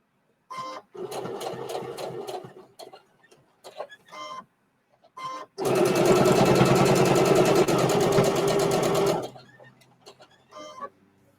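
A sewing machine stitching fabric pinned for a pin cushion and scissor holder gives a few brief stuttering stitches, then one loud, continuous run of nearly four seconds up close before cutting off to faint handling sounds.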